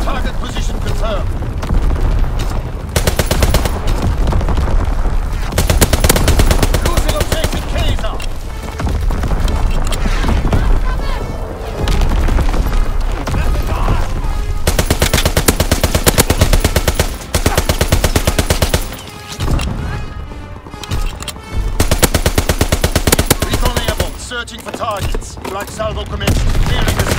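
Strafing run in the WWII shooter Call of Duty: WWII, during a domination match on the Shipment map: long loud bursts of rapid machine-gun fire with booming impacts, repeated across the scene amid constant battle noise.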